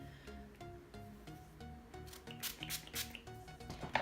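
Several quick hissing spritzes of rose water from a small spray bottle, faint and close, come in a short cluster over soft background music.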